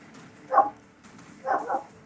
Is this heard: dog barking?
yes